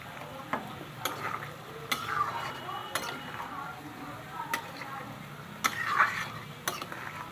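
Whole coriander, cumin, cardamom, cinnamon and cloves are added to a hot pan while cooking a vegetarian banana-flower dish, with soft frying sizzle, stirring scrapes and occasional sharp utensil clinks against the pan.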